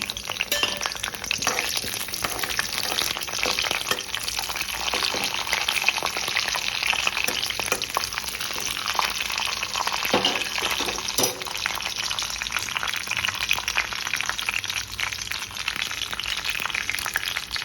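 Curry leaves and mustard seeds spit and crackle in hot oil, a dense, continuous sizzle with occasional pops and faint clinks, close and fairly loud, without speech.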